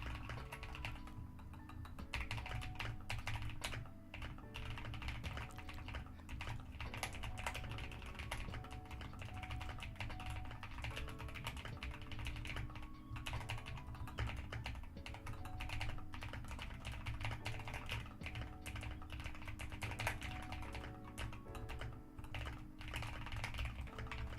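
Rapid, continuous clacking of a new computer keyboard being typed on during a work session, close and crisp, with dense irregular keystrokes and occasional heavier thumps, no talking.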